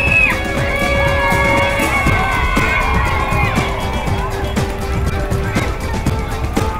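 A crowd cheers and whoops continuously at an Olympic torch relay in the rain in Rayleigh, Essex, a dense, steady roar of voices close by with scattered shouts and screams rising above it.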